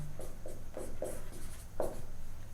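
Pen or marker writing on a board for a class 10 coordinate geometry lesson: a series of short, fairly faint scratchy strokes, about six of them in an uneven rhythm, close by and with no talk over them.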